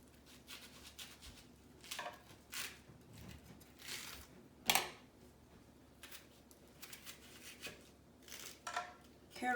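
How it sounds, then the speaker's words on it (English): An onion is cut by knife into pieces for the blender while preparing a Thanksgiving turkey: quiet, irregular chopping and slicing taps with soft rustles, close by and with no talk. "Here the onion. I just want to cut it so it will be easy to blend."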